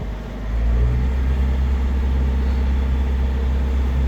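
A sailboat's engine rises from a low idle into a steady, deep rumble at about 1500 RPM while pushing against the tide, close and continuous with no talking.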